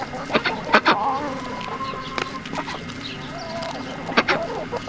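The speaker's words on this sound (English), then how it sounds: "Just dumped some of our scraps from the house out for the chickens." Chickens cluck and squawk up close while they peck at house scraps outdoors on a cold morning, short bursts from several birds overlapping over a low background rumble.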